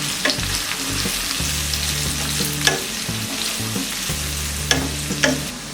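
Red onions sizzle steadily in a pan as a spoon stirs them, with scraping strokes and a few sharp clacks against the metal, close and fairly loud.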